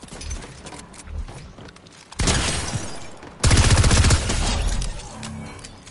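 Shotgun blasts in a video game 1v1 duel: a couple of soft thumps early, then two loud, dense bursts of firing close up, the second heaviest, tailing off at the end without any voices.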